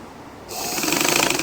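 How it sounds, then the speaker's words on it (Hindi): A domestic sewing machine with a worn feed dog that no longer pulls the fabric back starts up after a quiet moment and runs with a loud, steady, fast rattling hum. "सिलाई मशीन का अगर ये दंदाल ख़राब हो जाए तो ये देखो अभी कपड़ा पीछे नहीं खींच रहा ऑटोमेटिक"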